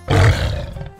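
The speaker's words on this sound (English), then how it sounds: "Lions are the king of the jungle. Let's hear them roar!" A lion lets out a single short, loud, deep roar that is close and heavy at the start and fades out within a second. No voices are heard.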